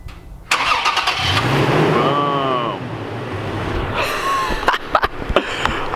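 A Toyota Tacoma pickup engine cranks and catches under remote start, then settles into a steady idle with a few sharp clicks and knocks near the end, close and fairly loud.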